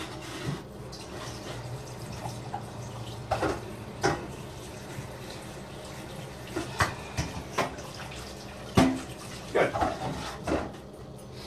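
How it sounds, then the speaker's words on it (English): Cold water runs from a sink tap over shrimp sitting in a strainer, a steady splashing rush broken by sharper clatters and sloshes as the shrimp are moved. A voice speaks briefly. "I'm going to put them back in the strainer that's in the sink, and I'm just going to run some cold water over them"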